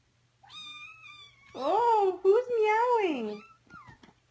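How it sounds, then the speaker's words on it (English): A cat meows several times close up, first a thin call, then long, wavering, drawn-out meows, with a short sound at the end. "Oh, who's meowing?"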